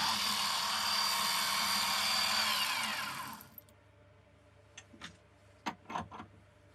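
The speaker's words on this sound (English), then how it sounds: "Now drilling holes for the brass pins" A 4mm drill bores holes for brass pins with a loud, steady whirring for about three and a half seconds, then cuts off, leaving a few sharp clicks and taps in near silence.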